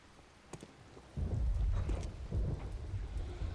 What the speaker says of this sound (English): I like the rumble. I like the fact that it's raining.